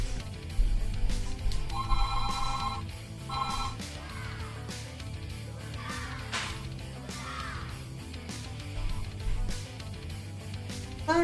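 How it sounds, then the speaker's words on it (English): A phone ringtone trills in two short electronic bursts near the start, over a steady background of low hum and scattered noises at a hobby workbench, with no talking. "there goes my phone"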